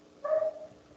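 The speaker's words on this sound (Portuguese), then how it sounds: "esse latido aqui desagradável, mas é o cachorro do meu vizinho" A neighbour's dog lets out a single short bark or yelp from nearby, a brief tonal cry fading quickly into a quiet room.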